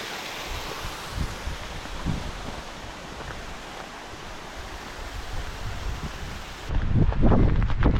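Wind blows across an open hillside on the Great Glen Way in Scotland, a steady rushing hiss with occasional soft gusts that swell into a louder buffeting on the microphone at the end.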